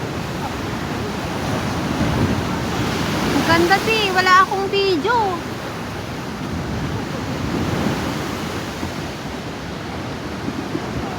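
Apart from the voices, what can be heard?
ocean waves on the shore at sunset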